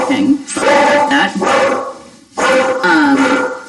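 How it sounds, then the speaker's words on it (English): A dog barks in a series of loud, close bursts with brief gaps between them, some with a yelping, whimpering edge, and no other sound standing apart from the barking. "oh, the dog is barking."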